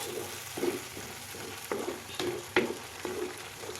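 Mixed vegetables are stirred in a frying pan with oil, a soft continuous sizzle broken by several sharp scraping and clattering strokes of the spoon at irregular intervals.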